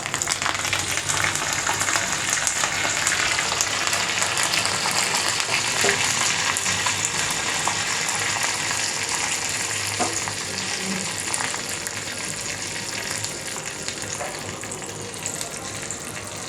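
Fenugreek seeds, cumin and curry leaves sizzle and crackle in hot oil for a Marathi-style mango curry tempering, a loud, steady frying hiss close by with occasional stirring, no voices.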